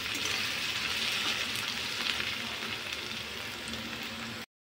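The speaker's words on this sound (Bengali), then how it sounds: "পেঁয়াজটা একটু আমি ভালো করে ভেজে নেব লাল লাল করে।" Onions frying in a pan, cooked until reddish brown, give a steady soft sizzle that carries on evenly for several seconds before stopping abruptly.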